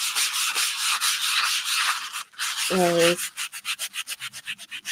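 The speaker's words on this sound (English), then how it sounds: "it will allow me to sand over it" Sanding over dried modelling paste: steady rhythmic rubbing strokes, close and fairly quiet, with a brief spoken word in the middle before faster short back-and-forth strokes resume.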